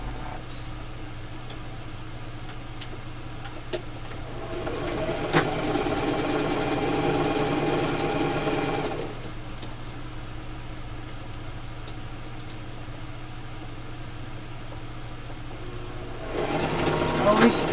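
A sewing machine runs in a steady mechanical whir while stitching a quilt, with a clear burst between roughly five and nine seconds and another starting near the end, over a low constant hum; quieter stretches fall between the runs.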